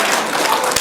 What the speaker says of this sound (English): Give Owen a big hand